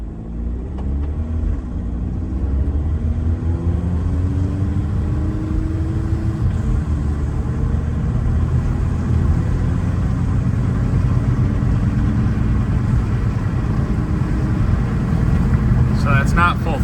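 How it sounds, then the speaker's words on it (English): A 2014 VW Passat TDI diesel sedan accelerates at about half throttle in sport mode, giving a steady, loud low engine rumble with a rising tone and wind noise, heard from inside the car. "So that's not full throttle, it's about half or so."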